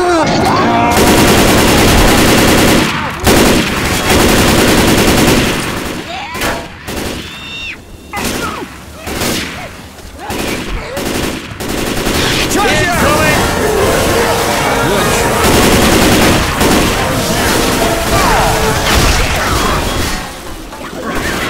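Assault rifle fire in the zombie shooter game Left 4 Dead 2, loud dense bursts of automatic gunfire with crashes and impacts, pausing briefly before resuming heavily, while in-game characters shout over the shooting.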